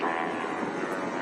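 A Yamaha superbike engine revs hard at an Australian Superbike Championship race, as a continuous high-pitched distant whine over broadcast ambience.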